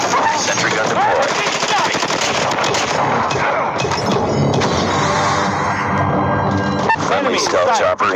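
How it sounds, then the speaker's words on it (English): Sentry gun in the Call of Duty Mobile video game firing continuously, a dense, loud automatic gunfire rattle sustained throughout amid other battle noise and in-game voice callouts. "Sentry gun deployed."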